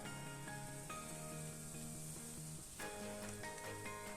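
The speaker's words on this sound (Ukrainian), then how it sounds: "ось так розподілили всю масу і відправляємо її смажитись." Pancake batter sizzles and fries in a hot pan for a meat roll dish, a steady crackling hiss close up under faint background music tones.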